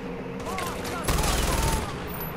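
Sustained automatic gunfire in Far Cry 4, a dense rapid burst of close shots rising loudest midway through, over game ambience with faint voices.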